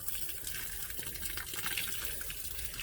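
Water runs steadily from a hose onto potted plants inside a hoop house, a continuous close splashing gush that soaks the soil, with no talk.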